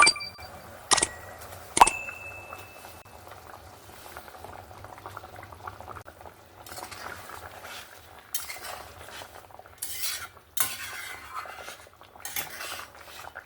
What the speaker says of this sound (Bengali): মাছটা দেওয়ার পরে আমি ভালো করে একটু নাড়াচাড়া করে নিলাম